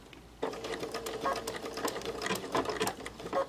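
A sewing machine stitching a blind hem with an adjustable blindhem foot, a close, busy mechanical whirring and clatter that runs continuously after a brief quiet start.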